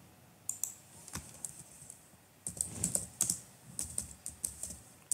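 Someone types a Linux command on a computer keyboard, producing close, quiet key clicks in uneven bursts with short pauses and a brisker run of keystrokes in the second half.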